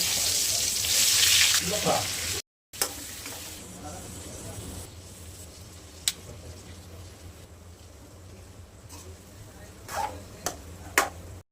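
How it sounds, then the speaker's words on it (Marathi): Hot water is poured into a pan of cooking stuffed brinjals, a loud rushing hiss for about two seconds, then a low simmering bubble with a few sharp clinks close by. "त्यात गरम पाणी करून टाकणार आहे मी."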